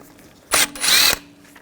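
A power drill with a T30 socket bursts on briefly, pauses, then runs steadily for about half a second, removing a rear brake bracket screw on a 2009-2017 Volkswagen Tiguan, close and loud, with no talk.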